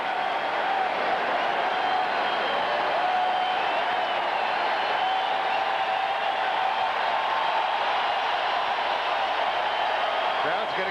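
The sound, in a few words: rowdy football stadium crowd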